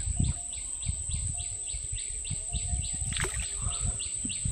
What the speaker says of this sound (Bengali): সকালবেলা বিভিন্ন প্রজাতির পাখির ডাক